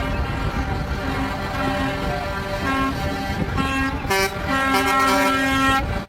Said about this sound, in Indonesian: Lihat nih, ada mobil truk molen.